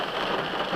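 Rain falls steadily on a car, a dense even hiss of drops with no breaks and no voices.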